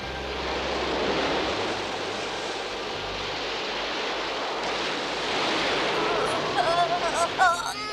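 Cartoon ocean waves on the open sea during a storm with a broken rudder, a loud continuous roar of surf and wind with brief voices near the end.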